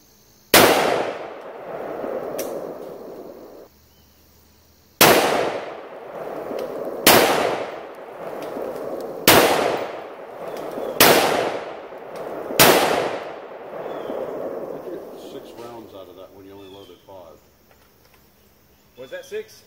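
Six gunshots fired at ceramic body armor, each a sharp loud crack with a ringing decay, spaced a few seconds apart and heard alone.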